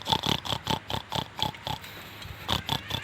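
A pig, called a babi ngepet, grunts and oinks in quick rhythmic bursts with a short pause midway, fairly faint and alone.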